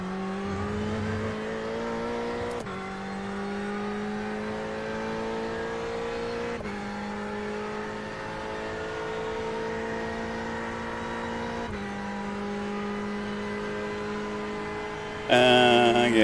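Race car engines in the iRacing GTE Sprint at Le Mans video game drone steadily, the pitch climbing through gears with a few sharp shift breaks, loud and continuous, ending in a brief burst of harsher noise.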